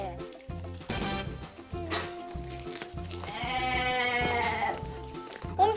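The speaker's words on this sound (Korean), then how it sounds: "얘네들 염소 아니에요, 어머니?" Goats on a farm bleat repeatedly amid a steady rhythmic mechanical drone, with a closer, louder bleat near the end and people talking faintly.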